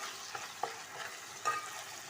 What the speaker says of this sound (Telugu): ఒక స్పూనుడు అల్లం వెల్లుల్లిపాయ పేస్ట్ 2 సెకండ్ పచ్చివాసన పోయేంత వరకు ఇలా ఫ్రై చేసేసుకోవాలి